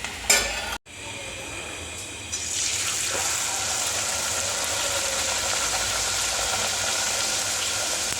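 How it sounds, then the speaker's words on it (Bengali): Water poured into a pan of cooking curry: after a brief clatter and a short gap, a loud steady hiss and bubbling rises and holds, close and continuous, with no talking. "চলো আমার কষে গেছে, এবার জল দিয়ে দিই"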